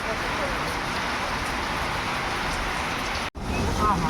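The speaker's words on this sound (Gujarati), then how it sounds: "જો આ બાજુ વરસાદ ચાલુ ફૂલ." Steady, dense rush of heavy rain pouring down on a farm during a windstorm, loud and continuous, with a brief dropout near the end.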